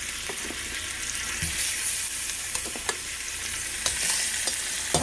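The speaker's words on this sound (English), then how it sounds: "The oil should be hot. You hear that sizzle?" Oxtails sizzle steadily in hot olive oil, a continuous close crackle with occasional sharper pops and stirring scrapes, no voices.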